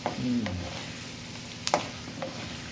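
Urad dal and peanuts fry in a pan with a steady, close sizzle, broken by a few sharp scraping clicks from stirring, and no voices.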